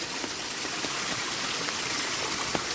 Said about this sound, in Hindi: यहाँ पर आज ये वाटरफॉल का पानी जो है ना बिल्कुल क्लीन है।